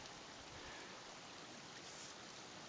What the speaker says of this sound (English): This water running in front of me is coming from this tiny little remnant snowfield just behind me.